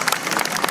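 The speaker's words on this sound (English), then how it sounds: "can we get a round of applause for everyone involved in this event?" A round of applause from the audience at a Cambodian-American beauty pageant in DC, a steady wash of many hands clapping at moderate loudness through the whole brief moment.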